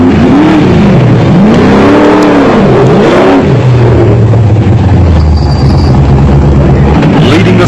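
An off-road racing Jeep at a South African rally race, its engine loud and close, rising and falling in revs as it drives toward the pits, with a commentator's voice over the roar.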